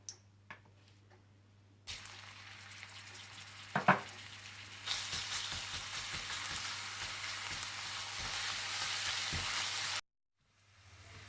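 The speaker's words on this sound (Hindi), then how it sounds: "तेल में आप लहसुन डाल दें और इसे थोड़ा सा भून लें।" Garlic sizzles in hot oil in a pan, the frying hiss rising suddenly and holding steady for several seconds under a low background hum, with a brief clink near the start before it cuts off.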